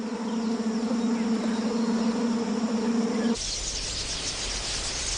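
A swarm of flies buzzing loudly and continuously, a dense steady drone close up that gives way to a hissier wash of insect noise partway through.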